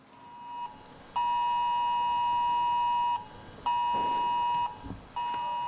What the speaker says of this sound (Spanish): nada discreto este pitido